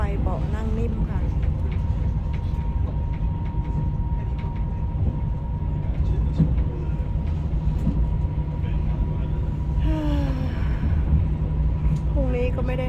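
Riding aboard a train with soft padded seats: a continuous low rumble and rattle of the carriage fills the whole stretch, with faint voices and clatter mixed in.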